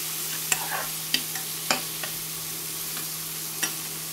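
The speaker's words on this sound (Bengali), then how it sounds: "একটু নেড়ে দিতে হবে।" Chow mein sizzles in an oiled pan under a steady frying hiss while a utensil scrapes and taps against the pan at irregular moments as the food is stirred.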